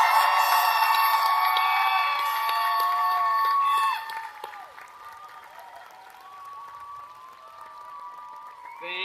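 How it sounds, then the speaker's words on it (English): Audience applause rises at a College of Business Administration commencement for the class of 2022, heard at first under a sustained tone from the hall's sound system, then fading to scattered clapping near the end. "How about one more round of applause for the class of 22?"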